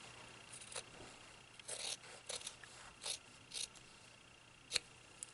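Scissors snip through quilt binding fabric in a quiet room, a series of short soft cuts and rustles with one sharper click near the end, close and faint, no voices.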